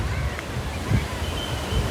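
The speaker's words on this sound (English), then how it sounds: "The wave is coming towards me." Sea waves wash onto a beach in Mumbai, a steady rushing surf with soft low rumbles and some wind buffeting on the microphone, close and moderately loud.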